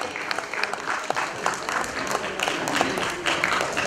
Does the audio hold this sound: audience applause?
yes